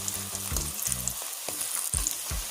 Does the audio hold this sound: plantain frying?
yes